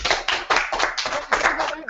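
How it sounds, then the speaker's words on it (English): An audience gives a short burst of clapping, rapid claps close together, with talking over it. "Maybe a little clap if they want to hear your audition"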